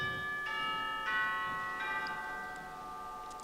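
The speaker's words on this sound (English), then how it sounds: "This organ even has percussion. We have chimes." Pipe organ chime stop rings out in a few sustained metallic bell strikes that overlap and decay slowly, clear and moderately soft with no voices.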